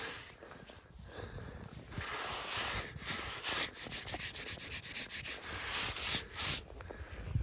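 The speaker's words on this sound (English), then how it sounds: "so if I take some snow and I just rub it on there real quick" Snow rubbed by hand across a weathered gravestone in a cemetery, a continuous close scratchy scrubbing with rhythmic strokes that grows busier toward the end, without speech.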